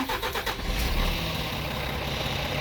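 A Scania truck engine fitted with a combustion-improvement system cranks briefly and catches, settling into a steady, rumbling idle close by.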